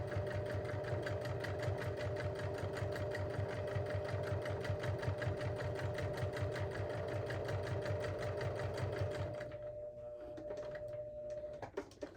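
A sewing machine stitching a seam on a bag, running steadily with a fast, even chatter. It stops near the end, and a few quiet clicks follow as the needle is set down for a pivot.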